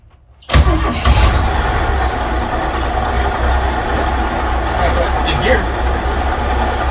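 A 1965 Chevy step van engine cranks and catches abruptly after a moment of near silence, then settles into a loud, steady, close rumbling idle that runs on without talk.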